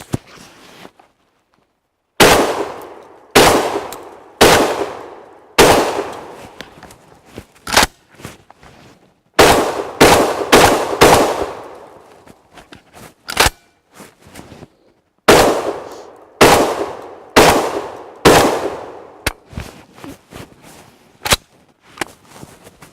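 An SRM 1216 rotary magazine shotgun firing outdoors, loud sharp blasts in bursts of several rapid shots separated by pauses, each with a short ringing echo, about twenty shots in all.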